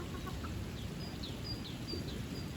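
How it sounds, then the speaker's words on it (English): Chickens cluck softly in the background over a steady outdoor hum, with scattered short calls rising now and then; pigs are nearby. "The other chickens that are rehomed are wanting in there"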